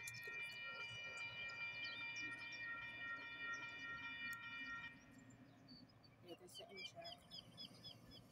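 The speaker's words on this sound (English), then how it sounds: "There's a fast Amtrak coming." A fast Amtrak passenger train rumbles past with a steady roar and tonal whine, then the noise drops away, leaving birds and a voice or two in the background.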